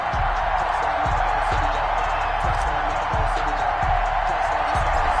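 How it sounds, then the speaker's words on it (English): A sold-out stadium crowd in an EA Sports NFL video game roars steadily throughout, a dense wash of cheering with faint thumps and claps underneath. "a moment ago they entered to the delight of this sold-out crowd"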